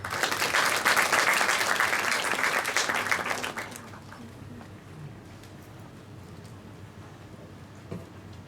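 Loud audience applause at a university event in Turkey fills the first few seconds with dense clapping, then cuts off abruptly and leaves a quiet room with faint background noise.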